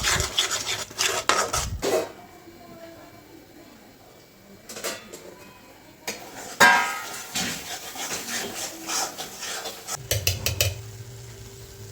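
Onion, tomato and coconut masala roasting in a pan, heard as a metal spoon scraping and clattering against the pan in uneven bursts, with quieter stretches of low rubbing and stirring between them.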